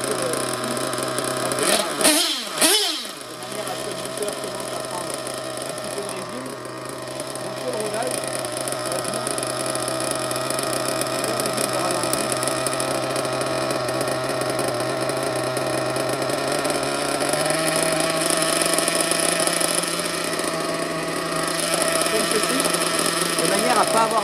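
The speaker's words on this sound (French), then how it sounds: "le moteur, comme ça, sur un régime de ralenti, il va durer avec le plein aux alentours d'une demi-heure" A nitro RC car engine being broken in runs at a steady idle with a high, buzzy drone. A loud blip in the first few seconds is followed by a continuous hum that rises slightly in pitch partway through.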